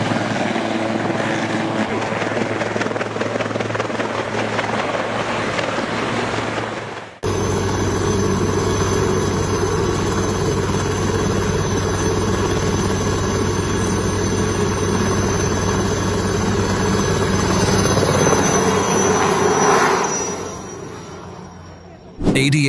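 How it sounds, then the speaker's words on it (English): A helicopter trying to lift off in a clearing hemmed in by trees, its loud, steady rotor and engine roar continuing throughout, broken by a brief cut after several seconds and easing near the end. "This helicopter is attempting to take off in an area surrounded by trees"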